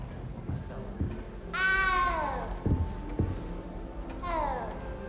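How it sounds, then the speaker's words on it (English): A cat in the Hogwarts Legacy video game lets out two drawn-out meows, a longer one early and a shorter one near the end, with soft footstep-like thuds in between. "You don't need to be frightened, little cat."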